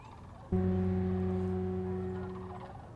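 A tall bird flying overhead gives a loud, sustained, strongly pitched call that starts abruptly and slowly fades, with no voices over it.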